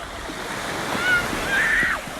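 Sea waves wash steadily onto a Lebanese beach, a soft continuous surf hiss with gentle swells and a faint high tone drifting over it, with no talk.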